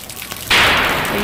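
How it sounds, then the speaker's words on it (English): Heavy rain from a summer thunderstorm in Las Vegas starts abruptly partway through as a loud, steady broadband hiss after a quieter stretch, continuing close and unbroken to the end. "That's all the rain we got."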